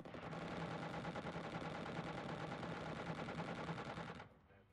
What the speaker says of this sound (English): Okay, so the cannon should be laying into the UFO.